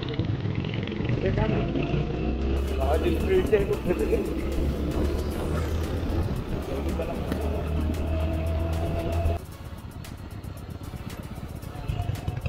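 A car drives along a smooth, quiet road, its engine and tyre rumble steady and close for most of the stretch before dropping to a lighter hum near the end, with people talking throughout.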